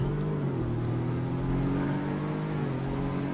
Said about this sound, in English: driving this thing around, it's not too bad.